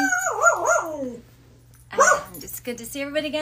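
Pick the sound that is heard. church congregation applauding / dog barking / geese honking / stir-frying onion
dog barking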